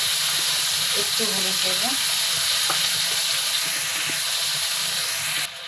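Prawns fry in hot oil with salt and turmeric, giving off a steady loud sizzle and hiss with occasional stirring, while someone briefly speaks over it before the sound drops at the end.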